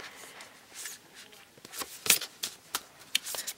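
Cards are shuffled by hand during a card reading, a run of soft papery riffles and sharper snapping bursts that grow busier and louder toward the end, close up with no talk.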